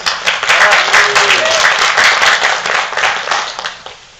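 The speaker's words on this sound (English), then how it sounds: "Let's give him a round of applause." Loud audience applause at an opening ceremony for an animation exhibition, steady clapping from a crowd filling the few seconds before fading slightly at the end.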